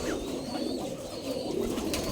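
Giribaz pigeons coo softly as a flock feeds together in an abandoned yard, a faint, steady burbling hum with light background noise.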